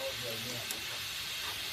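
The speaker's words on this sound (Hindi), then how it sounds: "अच्छा, ये देखिए हमारी भिंडी ना इतनी फ्राई हो गई है ये।" Okra (bhindi) fries in hot oil for a bhindi gosht dish, giving a steady, fairly quiet sizzling hiss that stays even throughout, with a few faint crackles.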